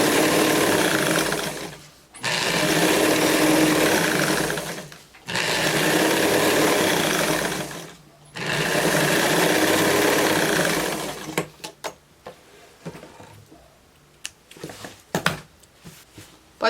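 A sewing machine with a straight-stitch foot sews a straight seam on a jeans skirt, running in three long steady bursts with short pauses. Softer clicks and handling noises follow at the end.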